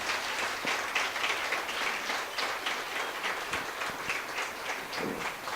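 A church congregation applauds Christ during a sermon, a fairly loud crowd of hands clapping with some individual sharp claps standing out from a steady, lively wash.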